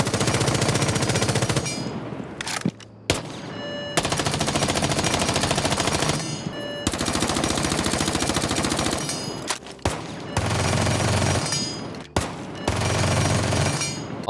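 Automatic rifle fire in Rainbow Six Siege comes as long, loud, rapid bursts at close range, each lasting a couple of seconds and separated by short pauses.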